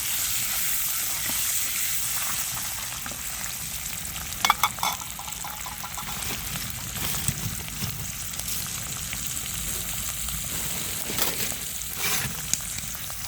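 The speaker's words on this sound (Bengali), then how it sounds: "আর একটু লবণ, হলুদ আর লবণ দিয়ে ডিমগুলো সুন্দর করে লাল লাল করে ভেজে নেব।" Eggs frying in oil seasoned with salt and turmeric give a steady, close sizzle that runs the whole way through, with a few sharper spits and light stirring clinks and no talking.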